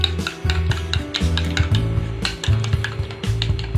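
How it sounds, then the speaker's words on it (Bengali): Eggs with a pinch of salt beaten in a bowl, giving a quick, rhythmic scraping and clinking of utensil against the dish, close and steady with no speech. "ডিমটাকে একটু ফেটে নেব।"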